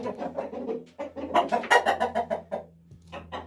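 A rooster and chickens cluck and call in bursts close by, with one louder crowing cry in the middle over a faint background hum.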